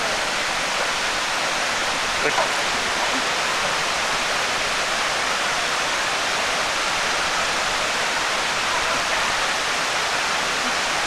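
Waterfall roar at the Cascades of Fall Creek Falls, heard from a bridge overlook: a steady, dense, broadband rush of falling water that fills the whole scene, loud and unbroken, with no voices over it.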